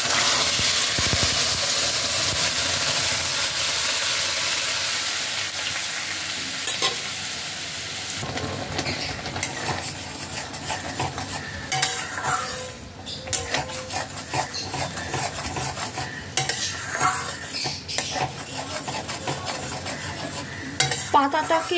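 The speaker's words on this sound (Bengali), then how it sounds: "পাতাটাকে এবার তেলের মধ্যে খানিকক্ষণ ভালোভাবে ফ্রাই করব।" Ground pumpkin leaf paste frying in oil, a strong hiss at first that settles into a lower sizzle with frequent spatula scrapes and pan knocks, near and without talk.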